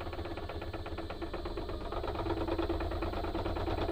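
Wood lathe spinning a pecan bowl blank at about 500 RPM, a steady mechanical hum with a fast rhythmic vibration and shake running continuously, moderately quiet and close.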